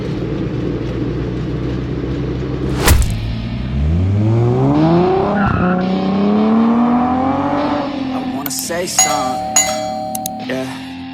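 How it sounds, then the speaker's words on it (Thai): A classic Toyota Corona RT61 (Mk2) accelerating through second, third and fourth gear, the engine note climbing loudly and dropping at each shift from inside the car, with a beep and music faintly at the end. "อัตราการเร่งดีอ่านี่เกียร์สอง อันนี่เกียร์สาม"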